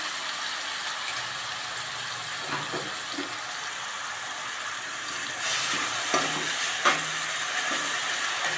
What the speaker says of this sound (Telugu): కచ్చా పచ్చాగా పట్టుకున్న ఉల్లిపాయ పేస్ట్ వేస్తున్నాను